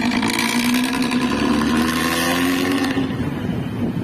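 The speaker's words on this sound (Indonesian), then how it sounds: "Mantep banget ya suara knalpotnya nih." Luragung bus with a loud modified exhaust rumbling steadily, a close, raspy and constant engine drone that eases slightly toward the end.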